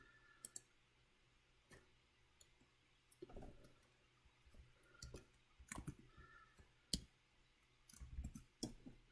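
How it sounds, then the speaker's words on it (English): Computer mouse clicks at a desk, sharp irregular taps scattered across the stretch, some in quick pairs, close and fairly quiet with faint low rumbles between them. "is my clicking annoying?"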